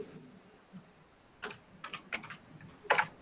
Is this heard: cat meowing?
no